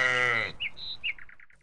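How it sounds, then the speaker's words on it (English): A sheep gives a single close, loud bleat, followed by several short bird chirps and a quick run of fading tweets against a quiet background. "Baba Black Sheep has lots of wool to give, but to whom?"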